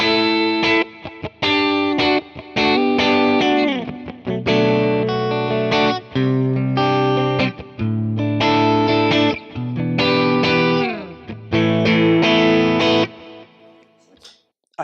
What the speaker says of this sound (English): if I go to the tap sound, again, this is both pickups tapped because I can only do them together.